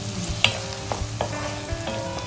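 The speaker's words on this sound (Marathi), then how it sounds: "मला परतून घेऊया" Masala of chilli powder, coriander powder and garam masala being sautéed in a pan for masoor pulao: a steady low sizzle with a few sharp scrapes and stirring knocks, close and continuous.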